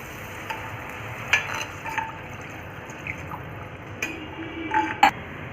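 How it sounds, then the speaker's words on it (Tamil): Water goes into a simmering pot of vada curry masala, making soft sizzling, bubbling and stirring sounds, fairly faint, with a few small clinks and splashes. "இப்போ நம்ம வந்து கொஞ்சம் தண்ணி ஆட் பண்ணிக்கலாம்"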